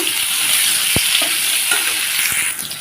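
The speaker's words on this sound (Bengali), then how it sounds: "আম কেটে রাখা আমগুলো দিয়ে দিলাম এখন ভালোভাবে নেড়ে চেড়ে নেব" Mango pieces fry in a pan for chutney, giving a loud, close, steady hiss of hot oil broken by a few sharp knocks and scrapes of a stirring spoon, with no talk.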